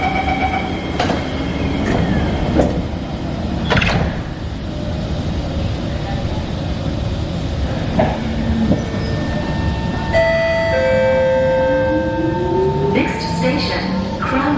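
Singapore MRT last train ride heading to Ang Mo Kio, with a steady rumbling carriage drone throughout, occasional sharp clunks and a rising electric motor whine near the end, faint voices in the background.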